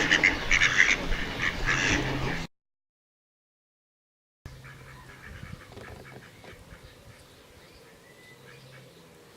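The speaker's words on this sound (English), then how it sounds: "there's loads of wildlife around here as well, as you can hear. Ducks and all kinds of waterfowl" Ducks and other waterfowl quack and call on a lake, loud and busy at first, then a gap of silence, then the same calls farther off and fainter over outdoor ambience.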